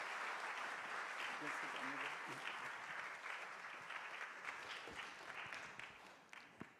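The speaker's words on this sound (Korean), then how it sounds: "우리 한 박수 한번 하실까요?" Congregation at a Friday late-night church prayer meeting applauding a guest speaker, a quiet, sustained wash of clapping that slowly fades, with faint voices underneath.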